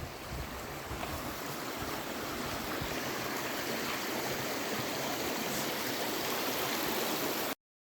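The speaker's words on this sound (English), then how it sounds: "And enjoy the creek. It's ice cold." Steady broadband rush of an ice-cold creek flowing continuously at Settlers Grove, Idaho, close and fairly loud, with no voices, ending abruptly.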